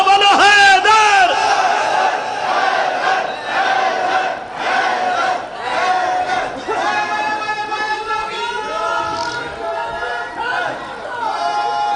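A large crowd at a religious celebration chants "Haidar" with raised hands, loud massed voices surging in repeated rising shouts that overlap a lead voice, forming a continuous roaring chant.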